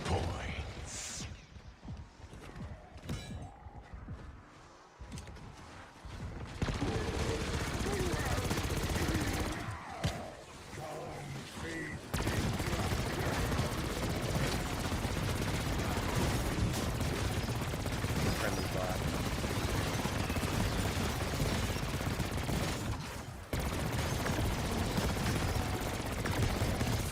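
Continuous, dense gunfire, loud and unbroken, with only a few brief dips in intensity over the stretch.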